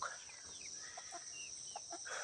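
Soft, scattered clucks from chickens nearby, quiet and intermittent over a steady hiss of background noise.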